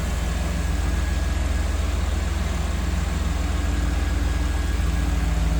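A 1991 Chevrolet Camaro RS coupe with a 305 V8 idling, a steady low rumble with an even pulsing beat that holds constant and close for the whole stretch, with no talk over it.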